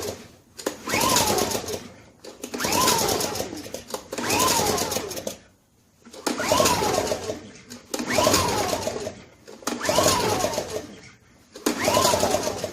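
A Honda EU1000i portable inverter generator that runs badly, its engine surging in a steady cycle: about six loud bursts of roughly a second and a half each, broken by short near-silent dips, close by and with no talk.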